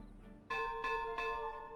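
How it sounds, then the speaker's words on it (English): In the beaver colony-building game Timberborn, a bell rings three clear, resonant strikes spaced about a third of a second apart, each tone sustaining and overlapping the next, after a quiet start. "The beaver's bell."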